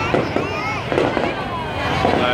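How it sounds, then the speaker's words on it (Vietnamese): Fireworks bursting over a huge street crowd in Saigon on 30 April, a run of booming explosions and crackles over the constant roar of the crowd, with voices talking nearby. "tất cả đã dừng lại để coi bắn pháo bông rồi các bạn."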